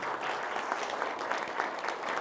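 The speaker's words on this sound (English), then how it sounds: "So give a round of applause for her one more time." A room of Rotary club members applauds for a woman at an incoming president talk in Las Cruces, a dense, even burst of clapping throughout with no voice on top.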